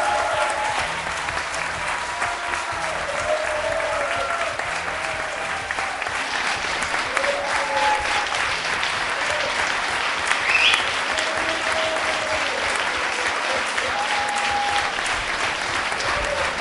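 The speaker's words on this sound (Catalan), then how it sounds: "Aplaudiments a la sala de plens, molta gent dreta aplaudint intensament a Xavi Paz" Dense, sustained applause from many people standing in a town council chamber, loud and steady throughout with no break, as a new mayor is proclaimed.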